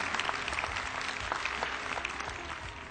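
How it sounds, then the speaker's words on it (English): An audience claps for Sri Ramachandra Reddy at a meditation event inaugurated by Brahmarshi Patriji, with steady, dense applause throughout that is fairly soft and somewhat distant. "I request everybody to give a big clap to Sri Ramachandra Reddy"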